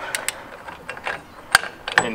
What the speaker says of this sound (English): And then you can fully tighten it